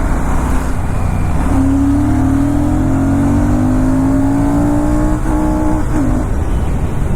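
A Royal Enfield Super Meteor 650 motorcycle accelerates hard, its engine note rising steadily through a long pull before a quick gear change and a further climb, loud and close with wind roar underneath.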